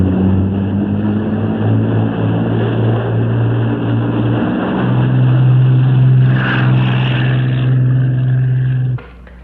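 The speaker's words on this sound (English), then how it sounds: "No, only one helicopter." A helicopter's engine and rotor drone steadily and loudly for several seconds, a continuous close roar that cuts off abruptly at the end.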